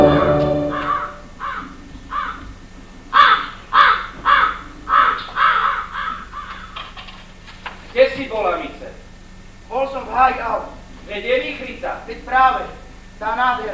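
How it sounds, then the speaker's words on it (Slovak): Rooks caw repeatedly in a run of harsh, rhythmic calls, fairly close and loud, with a second burst after a short pause. Speech may be mixed in with the calls. "Počuješ havrany?"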